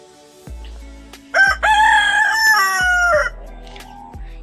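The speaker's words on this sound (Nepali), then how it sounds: "हाम्रो चाहिँ खुराको भाले म जता जान्छु त्यतै कुद्छ" A farm rooster in a Nepali village lets out one loud, close crow lasting about two seconds, with a few soft knocks and thumps before and after it.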